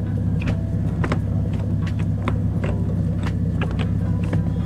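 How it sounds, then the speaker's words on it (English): Short shifter being worked through its gears inside a car: a run of quick, notchy mechanical clunks and clicks repeats over a steady low engine idle rumble, close and fairly loud, with no talking. "we installed a short shifter on this car. So first of all, here are the throws."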